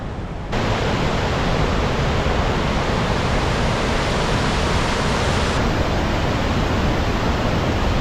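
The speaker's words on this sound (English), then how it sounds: "We have found our way down to Bow Falls. This is on the Bow River." Bow Falls on the large Bow River in Banff, Canadian Rockies, roars as a loud, unbroken rush of falling water that begins abruptly and stays steady and close throughout.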